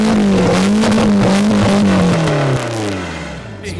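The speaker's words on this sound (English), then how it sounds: "Gotta get my race car started." A demolition derby race car's engine roars loud and close, revving with a wavering pitch before dropping off toward a lower idle.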